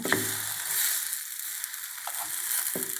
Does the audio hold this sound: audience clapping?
no